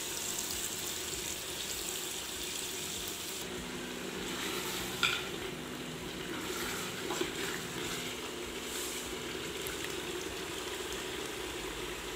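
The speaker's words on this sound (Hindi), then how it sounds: "अब हम गोश्त को मज़ीद पाँच मिनट के लिए भून लेंगे" Mutton pieces sizzle as they fry and get stirred in masala for Afghani-style dum gosht, a steady loud hiss with occasional scraping clatters, close and without talk.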